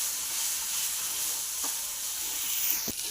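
Chopped dry fruits roasting in a pan over a low flame, heard as a steady soft hiss with a couple of brief scrapes of a spoon near the end.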